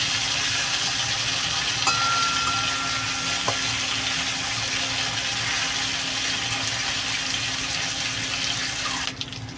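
Rohu fish pieces fry in a pan, a steady broad sizzle with a faint hum, loud and continuous with no talking.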